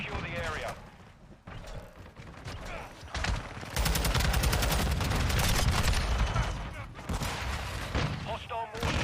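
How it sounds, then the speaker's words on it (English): Mortar strike explosions in a video game come as loud, dense bursts of blasts and gunfire that swell and fall across several seconds, with brief lulls and voice-like game chatter mixed in. "Hostile mortar strike near your position."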